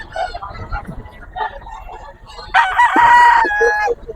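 A full-grown gamecock stag at a grotto market clucks softly at first, then lets out a loud, close crow lasting over a second, with faint voices in the background.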